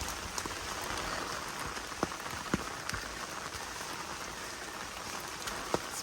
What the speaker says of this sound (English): it is pouring rain today